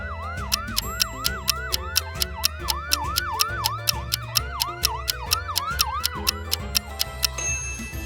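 An ambulance siren wails in a steady repeating up-and-down pattern, loud and up close, over a busy backing of sharp rhythmic ticks and low beats, with no voices.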